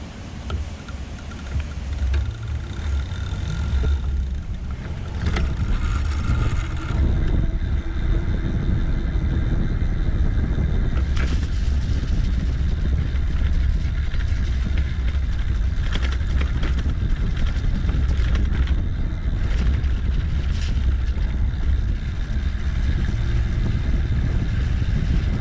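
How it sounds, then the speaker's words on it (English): Rad Power Bikes RadCity 4 e-bike ridden off-road over grass, its fenders and chain rattling amid a steady loud rumble of wind and rough terrain, continuous throughout with no talking. "now I'm going to do some off-roading so you can hear the fenders and just the chain and everything"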